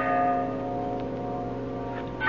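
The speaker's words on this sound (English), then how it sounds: "Platner, you hear that? Ah, Bell." A single distant bell rings in a radio drama, heard from far down a mountain gorge in a still, snowy setting; a steady sustained resonant tone hums throughout with no speech.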